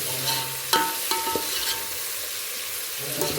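A tempering of salt and turmeric fries in a pan, a soft steady sizzle with a few sharp scraping clinks of a spoon stirring against the metal, close and without speech.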